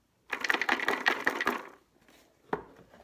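A cardboard box of cotton swabs is shaken, giving a dense burst of quick dry rattling clicks for over a second, then a pause and a single short rattle, close up with no talking.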